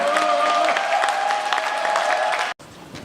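Audience applause welcoming Cheongju Cheongwon-gu member of parliament Song Jae-beom at a legislator's parliamentary activity report meeting; steady dense clapping with a faint voice underneath, cutting off abruptly near the end.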